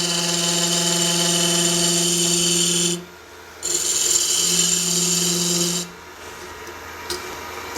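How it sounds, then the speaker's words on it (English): A wood lathe spindle turning with a loose tailstock gives a loud, steady tonal hum with buzzing chatter, broken by a short drop and a longer quiet stretch as the cutting pauses. "Tailstock's just a little loose. That chatter goes right away when I tighten it."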